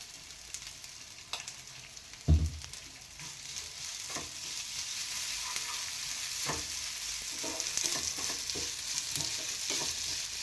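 Ghee goes into melted, sticky jaggery in a pan for a semiya kudumulu stuffing, which is stirred with a low simmering sizzle, scattered spoon scrapes and one sharper knock early on, close and quiet, with no speech.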